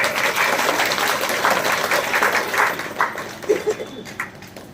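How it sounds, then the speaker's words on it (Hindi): Audience clapping steadily at a Bhagavat Katha religious gathering, a dense continuous patter of many hands that thins out toward the end. "चलो ताली बजाओ"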